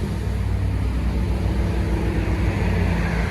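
A 2009 Chevy Silverado LT with a 5.3L V8 and single Dynomax Race Bullet exhaust rumbles in a steady, loud, deep drone at an even idle, with no voices.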